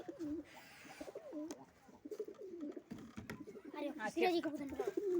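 Pigeons cooing inside a loft, several soft throaty coos repeating near the microphone at a low level, with someone talking intermittently over them.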